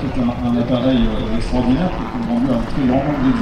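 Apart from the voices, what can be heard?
No everyday noises stand out.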